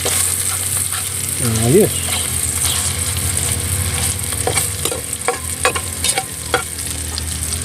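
Oil sizzles and crackles steadily as food fries in rendered fat while tinola is cooked at a farm home, with stirring clatter and a few sharp pops, a voice speaking briefly over it.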